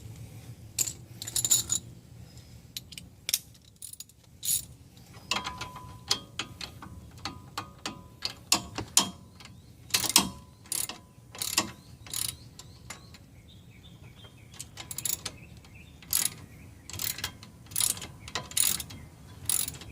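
Wrenches click and ratchet in short irregular bursts while sway bar links are tightened on a VW Mk5 Rabbit, Jetta or GTI, with metallic clinks and tool handling between strokes.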